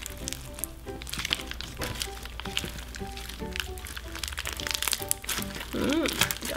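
Crunchy slime mixed with coffee beans is stretched and squished close up, giving dense crackling, popping and crinkling bursts that continue throughout and grow louder near the end.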